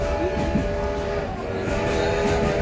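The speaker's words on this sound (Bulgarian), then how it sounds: "пътуваме с парния локомотив" A steam locomotive hauls a train out of Pernik central station toward Radomir, its running noise a continuous close rumble with sustained tonal ringing throughout.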